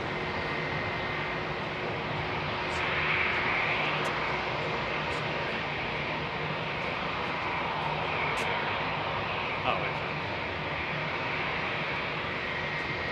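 Airliner engines rumble at Heathrow runway 27R, a steady, moderately distant drone holding level with a slight swell near the start and a few faint clicks, with no clear speech.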